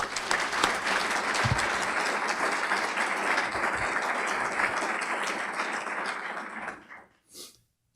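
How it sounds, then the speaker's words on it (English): Audience applause at a Missoula Economic Partnership investor breakfast, a dense steady patter of many hands filling the room for about seven seconds before fading out abruptly. "I would just like you to maybe give them a round of applause"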